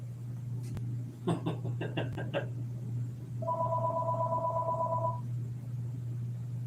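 A phone goes off indoors with a burst of rapid electronic tone pulses, then a sustained two-tone ring, over a steady low hum with light background noise.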